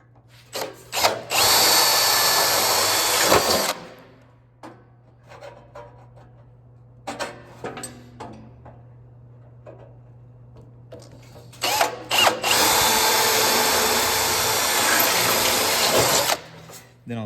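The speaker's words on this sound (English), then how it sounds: "Then I'll center punch them and drill them out." A power drill bores out center-punched holes for a Scrambler motorcycle dash in two long, loud, steady whirring runs of about three to four seconds each, with shorter bursts and handling noises in between.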